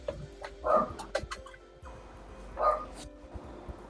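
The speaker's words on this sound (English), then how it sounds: "There's a horn out there, so he decided to bark." A dog barks a couple of times indoors, two short bursts roughly two seconds apart, reacting to a car horn sounding outside; quiet background with no talk.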